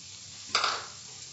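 Pricked boiled eggs hit a pan of Andhra-style masala with a brief sizzling burst over medium heat, loud for half a second, then fading into a faint hiss.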